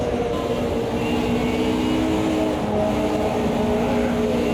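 AI-driven race cars battle each other on track in the video game Automobilista 2, a steady, loud engine drone with several overlapping motor tones holding throughout, no talking.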